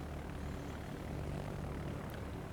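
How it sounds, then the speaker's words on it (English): Torpedo bomber aircraft in World of Warships droning with a steady propeller-engine hum, faint and constant with no break, no other sounds on top. "So he's got his torpedo bombers."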